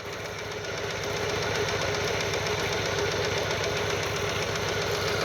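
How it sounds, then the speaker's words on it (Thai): A diesel tractor engine driving a two-inch piston water pump chugs steadily at a constant idle, a loud, rhythmic knocking drone that continues unbroken throughout. "ผมก็สตาร์ทรถไถก็น้ำออกครับ"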